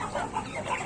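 Aseel rooster and hens cluck in a brief, steady, moderately close flurry of soft throaty calls over a busy farmyard background.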